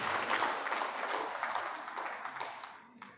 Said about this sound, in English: Please a round of applause for this gentleman